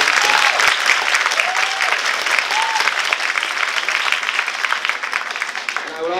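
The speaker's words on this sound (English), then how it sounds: "big round of applause for these three for going above and beyond" An audience at a school band Christmas concert gives a strong, sustained round of applause, dense and close, holding steady before easing slightly toward the end, with scattered cheers and voices mixed in.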